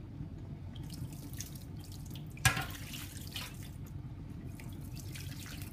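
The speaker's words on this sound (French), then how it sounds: "on va arroser avec de l'eau." Water poured from a tap over warm couscous semolina with a spoonful of salt, a steady close splashing stream with a brief sharper splash partway through, no talking.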